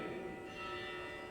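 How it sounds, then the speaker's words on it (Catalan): Programmed church bells ring on a Sunday before Mass, a faint, sustained metallic tone that hangs steadily in the background. "apaga molt les campanes que estan programades perquè és diumenge i mos toca a missa"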